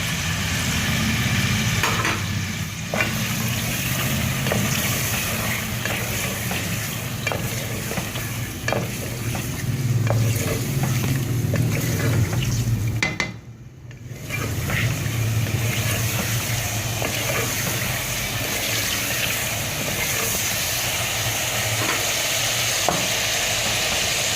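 Steady sizzling of beef frying with garlic in a pot for nihari, with occasional scraping and stirring sounds, continuous and close, briefly dipping quieter partway through.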